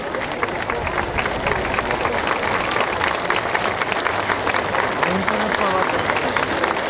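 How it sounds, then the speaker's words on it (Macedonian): An audience gives thunderous, dense, continuous applause after a 30-minute Macedonian folk dance performance at a festival, the clapping close and unbroken throughout. "Публиката ги испрати со громогласен аплауз."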